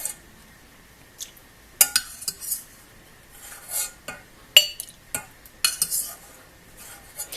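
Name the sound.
scooping tapioca bubbles into a big cup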